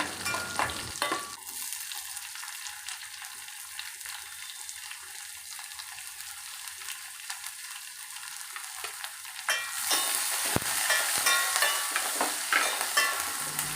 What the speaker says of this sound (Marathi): कांदा टाकायचा कांदा व्यवस्थित परतवून घ्यायचा ब्राऊन कलरचा होईपर्यंत